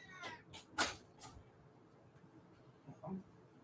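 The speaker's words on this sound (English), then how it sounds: "my cat's trying to get out the room again" A house cat meows while trying to get out of a room, giving a few short, close calls near the start and again briefly near the end, with some talk around them.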